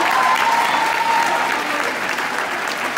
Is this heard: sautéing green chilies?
no